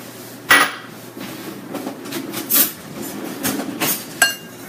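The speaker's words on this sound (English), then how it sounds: "Give it a little whisk together." Melted butter and hot sauce whisked together in a bowl for buffalo cauliflower: a run of quick metallic clinks and taps against the bowl, some sharper knocks among them, close and uneven in rhythm.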